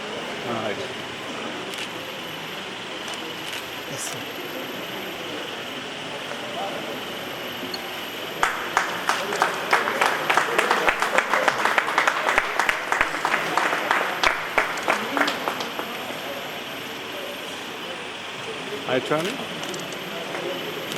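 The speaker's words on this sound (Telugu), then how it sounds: "Big claps." Applause at the closing ceremony of a road safety week in Nizamabad, starting as scattered claps and swelling into a dense burst of clapping midway, then fading, with a second short round near the end over crowd murmur.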